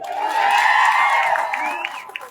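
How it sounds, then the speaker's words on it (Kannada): Crowd cheering and whooping at an outdoor gathering of sugarcane farmers in Gurlapur, loud and sustained for the whole moment, with voices shouting over the noise. "ನಿಂಗಪ್ಪ ಪಕ್ಕಂಡಿ ಜೋರಾಗಿ ಚಪ್ಪಾಳೆ ಹೊಡಿ"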